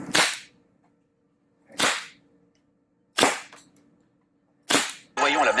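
A MilSig M79 foam dart sniper blaster fires four loud, sharp cracks spaced about a second and a half apart, each snapping close and decaying quickly, followed at the end by a burst of rustling noise.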